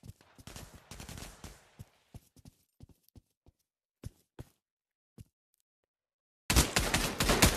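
Sparse gunfire in the VR shooter game Pavlov: scattered single shots and short bursts separated by quiet gaps, then a loud sustained burst at the end.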